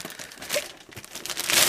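A plastic bag crinkles and rustles close by while a 1/6 scale Curse of Frankenstein creature action figure is unpacked, a continuous crackly crumpling that grows louder toward the end, with no voices.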